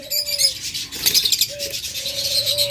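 Pet lovebirds, budgerigars and cockatiels in a bird shop give a dense, busy stream of high chirps and tweets, close and steady, with a clear repeated whistle-like note running underneath.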